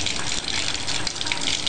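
Water runs from a tap at home for rinsing paintbrushes and watercolors. The steady, hissing gush is continuous and fairly close throughout the short moment.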